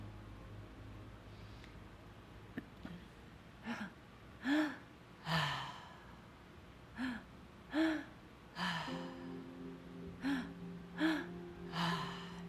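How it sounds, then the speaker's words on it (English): A person doing quick, rhythmic breathwork breaths during a guided session, with sharp, gasping inhales and exhales about every second, close and fairly loud over a faint tonal background hum. "if you speed up your breathing a little bit"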